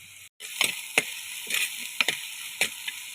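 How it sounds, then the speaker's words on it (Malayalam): Shallots and green chillies fry in hot coconut oil, giving a steady bright sizzle with intermittent scraping clicks and stirring taps close by, with no talking. "അപ്പൊ നമ്മുടെ വെളിച്ചെണ്ണ ചൂടായിട്ടുണ്ട് ചെറിയ ഉള്ളി വാറ്റിയെടുക്കാം അടുത്തത് രണ്ട് പച്ചമുളക് കയറിയത്"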